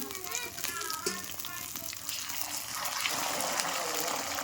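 Water pours into mutton with poppy-seed masala of fried onion, ginger, cumin and coriander paste. A voice talks at first, then a broad, steady gushing splash rises and continues to the end.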